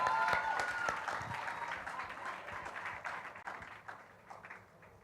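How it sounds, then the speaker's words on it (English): An event audience applauds as a speaker comes forward, a steady patter of many hands that slowly fades toward the end, with faint voices underneath. "Please keep clapping as she comes forward."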